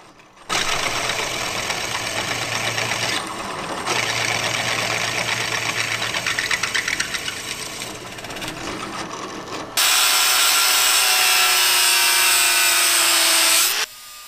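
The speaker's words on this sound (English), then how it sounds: "My angle grinder paired with a cutting wheel was the only tool I had to cut this plate." An angle grinder fitted with a cutting wheel slices through a steel plate, giving a loud, steady grinding whine with short breaks between passes, ending in a brighter, harsher stretch of cutting.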